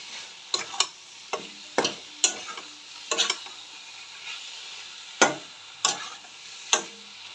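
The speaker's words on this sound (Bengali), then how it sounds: "এইবারে আমি এটা মিশিয়ে নিচ্ছি" Spoon stirring turmeric, chili powder and nigella seeds in a pan, a series of sharp scraping strokes at irregular intervals over a soft background hiss, no talking.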